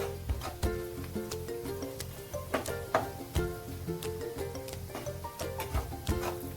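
Salt, turmeric and Kashmiri red chilli powder being stirred into a chola paneer curry in a pan: repeated scraping clinks of a spoon in an uneven rhythm over a soft sizzle, close and alone with no talking.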